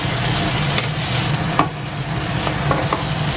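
Sweet, sour and spicy ingredients being stirred together in a hot frying pan, a steady close sizzle with scattered scrapes and clicks of the utensil against the pan.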